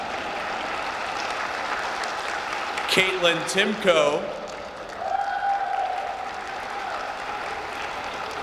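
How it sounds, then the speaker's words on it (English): Steady applause from an audience at a 2018 senior awards ceremony runs throughout as a soft, even rush of clapping, with an announcer reading a recipient's name over it partway through. "you can applaud"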